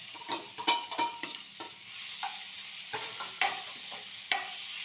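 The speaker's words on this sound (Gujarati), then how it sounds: "ઘી ગરમ થઈ ગયું છે. હળદર નાખીએ." Fresh turmeric frying in hot ghee, a low sizzle with repeated irregular scraping stirs and clinks of a spoon against the pan, close by, no speech.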